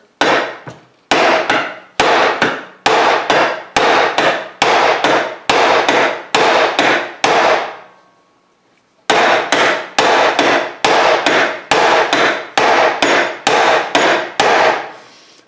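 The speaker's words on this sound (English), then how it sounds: "I'm just going to hammer here real hard." Hammer striking a piece of clothes hanger wire on the back of a vise, loud close blows in a steady rhythm of about ten hits, a short pause, then another series of evenly spaced strikes.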